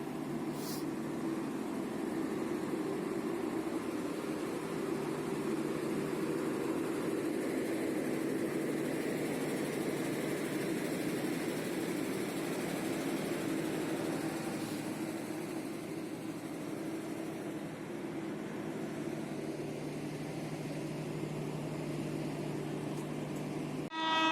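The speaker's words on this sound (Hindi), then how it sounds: "तो जी ये रही सीमांचल एक्सप्रेस और कर रही है अपनी ट्रेन को ओवरटेक" The Seemanchal Express passes and overtakes at a station platform, a long continuous low rumble of train and engine noise with a faint horn-like tone near the start.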